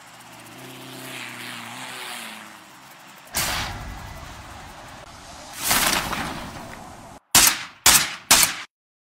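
Video game sound effects play through a Black Shark 4S phone speaker: a droning aircraft-like hum, two whooshing surges, then three sharp, loud gunshot bursts in quick succession.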